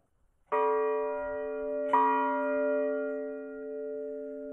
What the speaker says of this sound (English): That bell used to belong to the Lexington Fire Department.